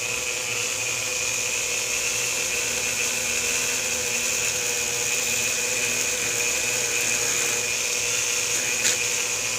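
Rotary tool fitted with small polishing bits working on aluminum, giving a steady high-pitched whine with a constant hum underneath, continuous and close for about ten seconds with no talking.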